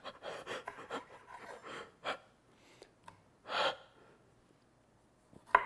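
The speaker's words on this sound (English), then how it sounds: "Am I breathing really hard when I'm doing this?" Heavy, audible breaths and gasps from a person cutting with a dull knife in a home kitchen, coming in short uneven bursts with pauses between, close and fairly quiet.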